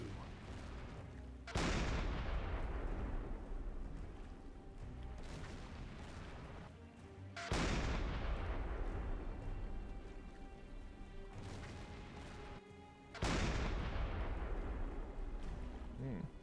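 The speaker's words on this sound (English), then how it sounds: "That was a nice explosion." Three heavy booms from the submarine game Silent Hunter 5, each a sudden loud blast that rolls into a long rumbling decay with crackling debris, spaced several seconds apart.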